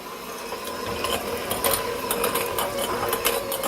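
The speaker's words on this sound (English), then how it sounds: "Use a hand mixer and mix this until smooth." Electric hand mixer beating a dried beef cheese ball mixture in a bowl, a steady close whirring motor with gritty rattling from the beaters, continuous and fairly loud with no talk.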